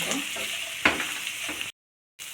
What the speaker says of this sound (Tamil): வெங்காயம் நல்லா வதங்கியாச்சு